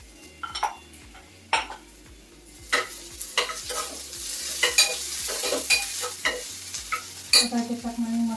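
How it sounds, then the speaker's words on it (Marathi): Onion frying in a home kitchen pan, with a continuous sizzle under repeated scraping and clinking as a utensil stirs against the metal. The sound is close and moderately loud, and no one is talking. "कांदा परतून घेते आता कांदा झाला"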